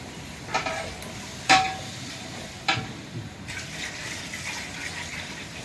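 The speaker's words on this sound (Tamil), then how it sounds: "கறி வணக்கிட்டோம் இனி தண்ணி நம்ம ஊற்றினோம்னா" Water is poured into duck curry cooking in a pan, bringing a gushing, sizzling wash of liquid. A few sharp clatters, like stirring or utensil knocks, stand out clearly above the bubbling.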